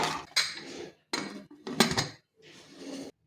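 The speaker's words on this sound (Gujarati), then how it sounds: "કુકરનું ઢાંકણ બંધ કરીને ફૂલ ગેસ ઉપર આપણે 2 વિસલ કરી લઈશું" Four metallic clanks and scrapes of a pressure cooker lid being fitted and shut over peas pulao, close and fairly loud, with brief gaps between them.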